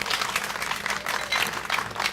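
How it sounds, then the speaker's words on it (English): Dense clapping from an audience at a seafood expo cooking demo, a steady wash of applause filling the whole moment without pause. "Give him a round of applause."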